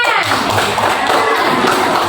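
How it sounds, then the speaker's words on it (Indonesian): Classroom pupils clap together in a dense, loud, continuous patter of hands, close and steady throughout with voices mixed in. "Ya, tepuk tangan."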